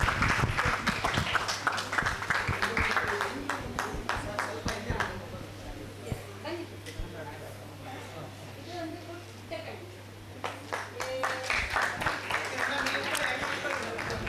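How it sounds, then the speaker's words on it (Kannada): Audience claps loudly at the Suchethana Sadhana Prashasthi award ceremony. Bursts of applause open and close the stretch, with a voice speaking over a quieter middle section. "ಬರಲಿ ಜೋರಾದ ಚಪ್ಪಾಳೆ"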